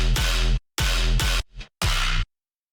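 Heavily distorted bass group with Snap Heap processing in an electronic music track: three loud, gritty, saturated bass stabs with a short wobbling blip between, each cut off abruptly into silence.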